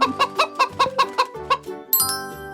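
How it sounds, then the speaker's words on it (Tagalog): A chicken clucks in a quick run of about eight clear, rhythmic clucks, close and loud, followed by a bright chime-like tone at the end. "Chicken."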